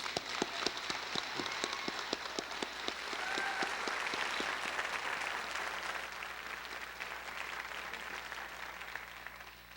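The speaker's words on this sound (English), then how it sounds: "Let's give them a round of applause." Audience applause at a high school graduation ceremony, a steady wash of many hands clapping that holds for about ten seconds with no voices, sharper individual claps near the start before settling into a dense, even roar.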